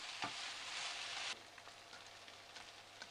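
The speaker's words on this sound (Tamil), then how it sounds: "நல்லா கொஞ்சம் ஹை ஹீட்டில் தான் வச்சு நான் இதை வதக்குறேன்" Biryani ingredients sautéing in a pan over high heat for a Hyderabadi mutton dum biryani, a loud steady sizzle for about a second, then dropping to a softer, quieter frying hiss with faint scraping stirs.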